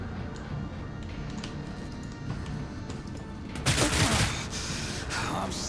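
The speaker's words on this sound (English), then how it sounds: "Another sniper rifle." A single loud sniper rifle shot rings out in Warhammer 40,000: Rogue Trader, a sharp burst with a brief ringing tail over a steady bed of battle ambience.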